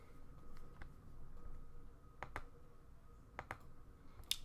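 Sharp mouse clicks at a computer sound close and quiet, a few isolated pairs of clicks spaced apart over a low room hum.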